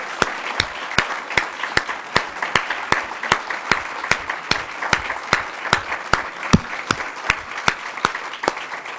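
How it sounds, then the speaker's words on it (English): A round of applause from the audience at an Ohio gubernatorial debate, heard as sustained clapping with a steady rhythm of loud, sharp individual claps standing out near the mics throughout. "could we please have a round of applause for both candidates and our moderator"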